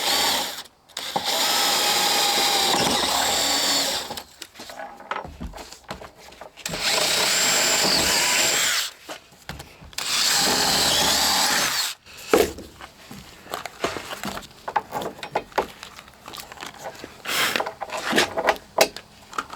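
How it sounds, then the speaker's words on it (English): A power drill bores into wood for step building in three long, loud, steady bursts of whirring, separated by pauses filled with scraping and knocking handling noises. "I just have to angle the drill bit down"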